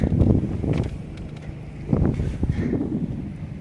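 Gusty wind on a sailboat under sail rumbles and buffets close against the microphone in uneven surges, swelling and easing over a few seconds with no voices.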